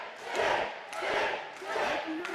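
At a SoCal Pro wrestling event, the crowd roars in three big rising and falling swells of cheering and shouting, loud and close, as a wrestler is introduced.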